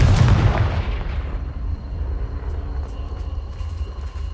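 A Confringo blasting spell explodes in Hogwarts Legacy, a loud, close boom at the start that rolls off into a long, rumbling decay under faint ambient game sounds.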